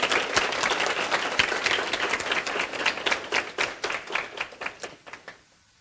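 An assembly audience applauds elected children's council members at a town youth council session, a dense burst of clapping that thins into scattered separate claps and fades out at the end.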